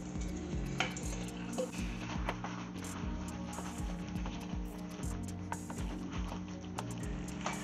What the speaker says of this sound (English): I'm just going to stir those in and allow them to start cooking